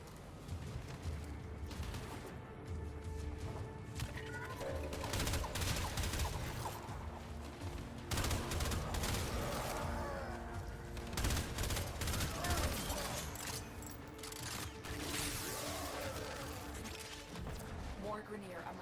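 Warframe gameplay is full of dense, overlapping gunfire. Rapid bursts and fusillades run almost continuously across the whole stretch with mechanical clatter, and voices are heard beneath the shooting.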